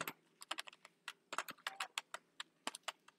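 Keys clatter on a computer keyboard as an SQL query is typed, quick irregular bursts of close, crisp clicks with short pauses between words, quiet and with no voices.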